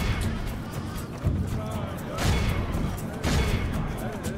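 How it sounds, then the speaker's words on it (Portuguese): Battle sounds from the video game Medieval II: Total War, with bursts of gunfire and crashing impacts rising in waves over a dense background rumble. "a gente mete tiro lá em cima"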